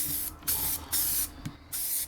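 Hogliners spray-on liner sprayed onto a motorcycle saddlebag lid in three steady hissing bursts separated by short pauses, close and loud with no talking.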